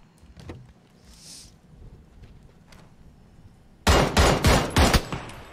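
Burst of rapid gunshots in a video game, loud and close, a cluster of sharp cracks after a quieter stretch with faint background noise.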